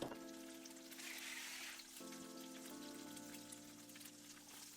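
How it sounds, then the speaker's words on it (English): An egg fries in hot oil in a pan, giving a steady soft sizzle and crackle under sustained background music, quiet and close with no talking. "Season to taste and let it fry until the sides start to go golden brown"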